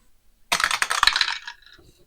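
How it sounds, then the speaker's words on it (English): Dice clatter and rattle across a surface in a tabletop football game, a short burst of hard rolling clicks lasting about a second, close and fairly loud, then settling. "These dice rolls are brutal."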